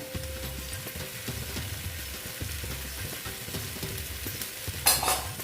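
Masala for Afghani egg curry fries and sizzles in a pan under steady stirring scrapes, then water from a mixer cup is poured in near the end with a brief, louder hissing burst.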